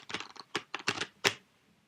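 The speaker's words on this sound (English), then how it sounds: "I'm going to give these a good shuffle" A deck of playing cards being shuffled by hand, a quick series of crisp riffling clicks and snaps in short bursts, close and clear with no talk.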